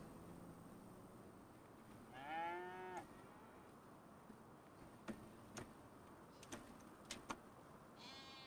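Cattle in a farming video game give a moo with rising and falling tone, then a few short clicks and thumps follow over a faint steady hum.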